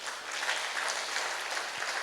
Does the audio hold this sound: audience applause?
yes